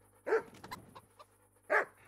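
Two sharp dog barks in the video game Kingdom Come: Deliverance, close and fairly loud, about a second and a half apart with small whimpering sounds between them.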